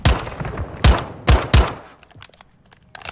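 Sniper SMG fire in Modern Warfare 2, with four loud, booming single shots spaced unevenly over the first second and a half, followed by faint game sounds.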